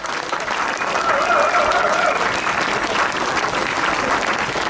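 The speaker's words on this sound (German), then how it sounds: "einen Applaus bitte" Crowd applause at an outdoor rally in Marktheidenfeld, a dense steady roar of many clapping hands with some cheering voices, loud and sustained throughout.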